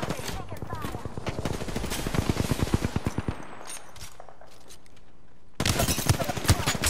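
Spitfire light machine gun in Apex Legends firing a long, rapid, close-up burst for about three seconds. After a quieter lull, another loud wash of battle noise follows.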